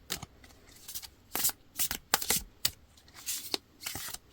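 A small black-and-pink oracle card deck is shuffled by hand, giving a run of crisp, papery riffling bursts in irregular bursts, close and clear with no talking.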